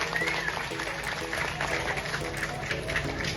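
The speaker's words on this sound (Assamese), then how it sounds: "হাত চাপৰি লাগে পুনৰবাৰ।" Applause from an audience at a Bihu function in Tinsukia, Assam, a steady wash of clapping blended with music playing and some crowd voices.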